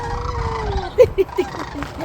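Migrating birds call outdoors in Canada in late autumn, a few short honking notes after a drawn-out call, moderately close over a low background rumble.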